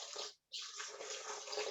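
Water pours steadily into a blender holding soaked cashews for a raw vegan falafel wrap recipe, a close, bright splashing stream with one brief pause before the flow resumes and continues.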